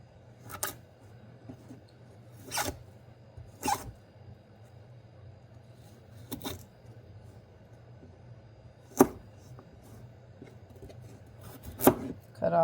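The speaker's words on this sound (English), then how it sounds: "Cut off the end." A knife chops vegetables on a cutting board for leftover ramen, with sharp isolated knocks spaced a few seconds apart over a low steady hum, close and fairly quiet.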